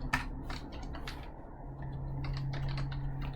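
Rapid typing on a computer keyboard while entering a surface-area integral, the key clicks coming in quick irregular bursts close by over a steady low hum.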